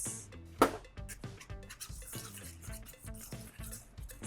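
Salt and pepper steak seasoning stirred in a bowl, with close, rhythmic scraping strokes repeating about twice a second, one sharper clink near the start.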